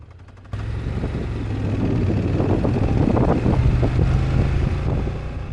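A car engine lurching at low speed while turning onto a parkway, with a heavy, uneven low rumble and road noise that builds and swells throughout, as if recorded from inside the moving vehicle.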